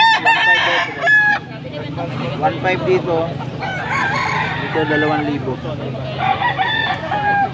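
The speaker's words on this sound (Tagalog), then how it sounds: "Mga bata pa, tandang, mga tandang pa lang." Several young roosters (stags) crow in rough, uneven calls that overlap and repeat, close by, while someone talks over them at a sale in Angeles, Pampanga.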